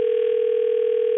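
A steady, loud single-pitch telephone line tone hums without a break, unanswered call audio with no voices.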